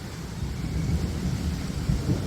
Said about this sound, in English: Well, folks, the rain's finally rolling in.